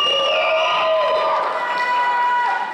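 An audience at a middle school awards ceremony cheers and whoops loudly and steadily, with high shouted voices and a sustained crowd roar for an honored student.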